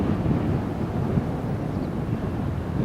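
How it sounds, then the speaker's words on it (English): Strong wind buffets the microphone at Newcastle International Airport's planespotting area, a loud continuous low rumble and roar that stays dense and steady throughout, with no voices. "Hear that wind"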